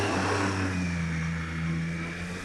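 A Triumph Street Triple 765RS motorcycle engine pulls hard under acceleration, a steady, close, mid-pitched drone with a smooth rising tone and no spoken voice.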